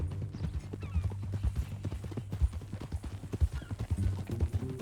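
Horse hooves clip-clop at a steady walking rhythm in Red Dead Redemption 2, close and distinct over a low ambient musical drone.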